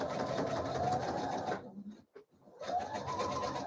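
A sewing machine runs a straight stitch across the back neckline piece of a dress, a close, steady whirring rattle that stops briefly in the middle and then starts up again.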